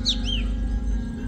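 Forest wagtail calling in a forest undergrowth: two or three quick, high, sweeping chirps near the start, then fading, over a steady low background hum.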